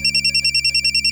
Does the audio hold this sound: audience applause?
no